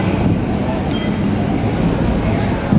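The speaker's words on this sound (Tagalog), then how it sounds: "Ayan na, may naman na train." A train rolls into a station platform with a loud, steady rumble and rail noise that swells slightly at the end, with a voice faintly present beneath it.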